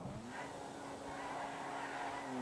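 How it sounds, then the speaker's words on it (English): Car driving past in the GTA video game, a steady engine drone with a faint tonal whine, distant and fairly quiet throughout. "what about that car that just nobody gonna be in that shit. Car that just passed by?"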